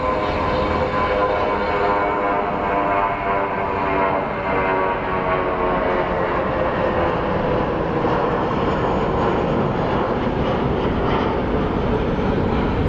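Airplane engine roaring steadily at Phoenix Sky Harbor International Airport, a loud continuous broadband rumble and whine that holds throughout without any talk.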